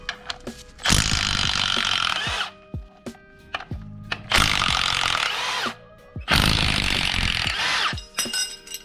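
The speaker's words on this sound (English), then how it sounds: "just take off these flex plate bolts, and hopefully this Milwaukee has enough juice in it." A Milwaukee power tool zips off flex plate bolts on a 1JZ-GTE engine meant for a Lexus IS300, firing in three loud bursts of about a second and a half each, separated by short quieter gaps of clinks and handling.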